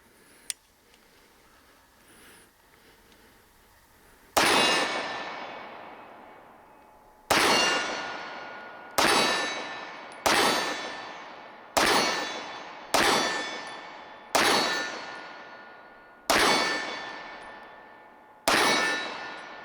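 Springfield Armory Ronin full-size 9mm 1911 pistol fired nine times at a steady pace, each loud sharp shot followed by a ringing clang from steel targets, after a few seconds of quiet outdoor ambience.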